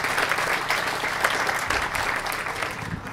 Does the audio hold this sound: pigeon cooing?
no